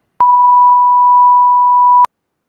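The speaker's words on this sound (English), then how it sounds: "How does our beep sound?" A single steady pure-tone test beep on a live stream, loud and clean, sounding for about two seconds, with small clicks at its start and end and no talk.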